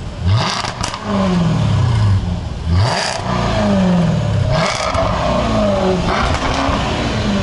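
A loud sports car engine, from a BMW i8 or Porsche Carrera GT at a rally, revs up and down repeatedly in rising and falling sweeps, close by, with some clattering and no talking.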